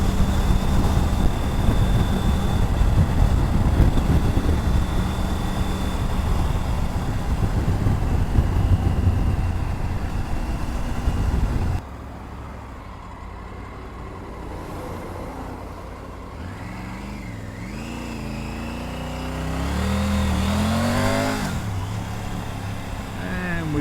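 Triumph Tiger 900 Rally Pro motorcycle engine while riding, a steady engine drone mixed with rushing wind noise, then a quieter stretch where the engine note rises and falls as revs change, with a rider talking over it.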